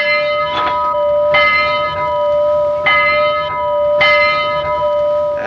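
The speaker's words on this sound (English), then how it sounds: "It's a bell, it's a regular old Portland bell here" An old Portland locomotive bell rings steadily and loudly at close range, each clang about 1.2 seconds apart with a long sustained ring between strikes, and no voices are heard.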